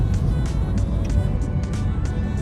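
A sports car engine revs while downshifting on a Mumbai road, a low loud rumble with rhythmic bursts of throttle blips, close and continuous under faint background noise.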